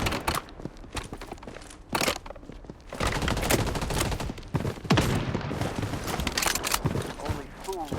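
A minigun firing in a battle royale video game, heard as loud, sustained rapid bursts of gunfire with crackling shots and brief pauses, while voices talk over it.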